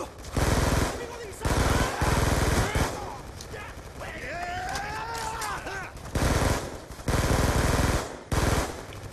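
In the Black Ops 2 campaign, loud machine-gun fire comes in repeated rapid bursts, while a voice speaks during a pause between them.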